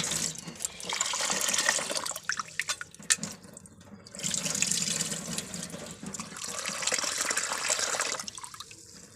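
Tap water runs steadily into a sink as rice is rinsed for soaking, with splashing and dripping that briefly thins around the two- and eight-second marks, close and fairly loud, with no talking.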